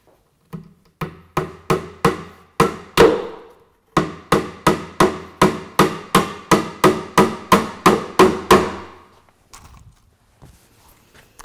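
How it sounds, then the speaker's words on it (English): A hammer drives nails into wood for a drop-front desk, about twenty sharp, evenly spaced blows ringing out close by in two quick runs separated by a short pause. "I'll just simply put nails in all 3 spots"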